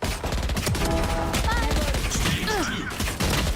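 Rapid bursts of automatic gunfire in a Valorant esports match, Sentinels vs G2 in the VCT Americas Grand Finals, loud and dense, with short whooshing ability effects and chirps layered over the shots.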